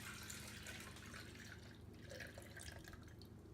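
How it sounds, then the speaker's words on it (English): Sweetened apple cider pours into an ice cream maker, a steady liquid splashing and dripping stream that runs close and fairly quiet for the whole stretch, with no talking. "Now we're gonna pour the sweetened one in first and make a mess."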